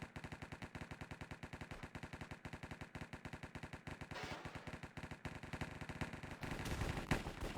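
Rapid automatic gunfire in a Minecraft shooter game repeats in a steady, fast rhythm of sharp shots, growing denser and louder toward the end, with no voices.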